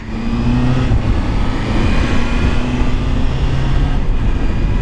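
A stock Honda CBR650F motorcycle engine runs loud and close with a steady, sustained drone, holding a constant rev without obvious spikes.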